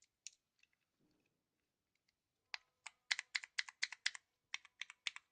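Sharp mechanical key clicks on a Logitech G610 keyboard fitted with replacement switches, a few isolated presses and then a quick run of a dozen crisp, loud clicks.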